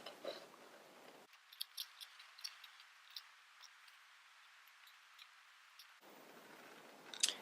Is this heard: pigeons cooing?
no